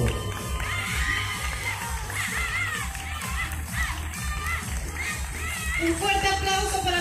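A crowd at a town patron-saint fair pageant cheers and claps under lively music, with shouts and excited voices rising and falling throughout.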